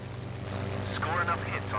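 A Spitfire's propeller engine drones steadily in the Secret Weapons Over Normandy game, a low continuous hum while a voice talks over it.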